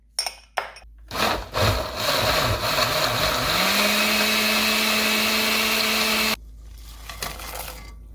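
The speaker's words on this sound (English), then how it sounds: "I'm gonna put this back on the blender." A blender loaded with blanched morita and puya chilies for salsa whirs up after a few clunks, holds a steady motor drone for several seconds, then cuts off, leaving a few faint knocks.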